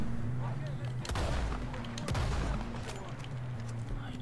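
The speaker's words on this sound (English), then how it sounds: "Lucky I got this shotgun here, boy." Shotgun blasts in the Red Dead Redemption 2 video game: two sharp, heavy booms about a second apart, loud over a steady low hum of game music and ambience.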